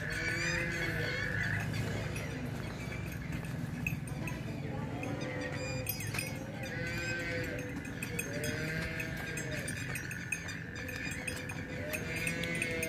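Cattle on a farm in Sargodha, with repeated drawn-out moos over a busy outdoor background of other livestock and fowl calls, some near and some farther off.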